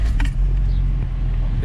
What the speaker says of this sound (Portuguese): Vou funcionar o carro aqui.